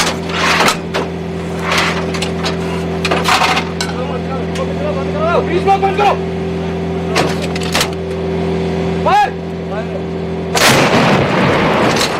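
Bofors artillery guns fire in Kargil War footage, sending repeated sharp, booming blasts at irregular intervals over a steady low engine drone, with a loud burst near the end.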